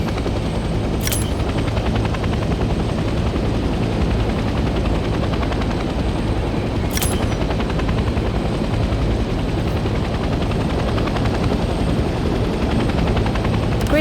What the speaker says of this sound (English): We are now airborne. Let's get familiar with the 3 primary helicopter rotations